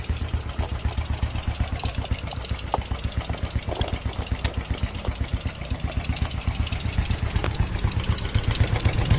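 A Suzuki Smash motorcycle engine idles during carburetor tuning in the rain, a steady, fast, chugging putter, close and even throughout.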